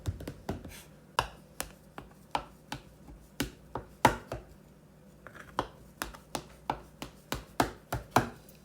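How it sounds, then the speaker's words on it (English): A knife cuts through powdered-sugar-topped baked bars on a board, making about twenty crisp, sharp taps at an uneven, fairly quick rhythm, close up and with no talk. "Cut into bars."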